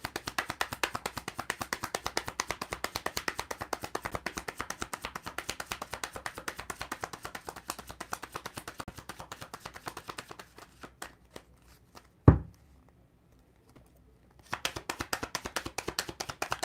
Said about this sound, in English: I'm being called to shuffle more